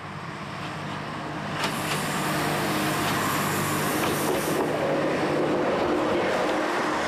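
A train on a Sardinian railway line rolls past an unmanned level crossing on an unmade rural track, a steady loud rumble and wheel noise that swells after a quieter start and holds close throughout.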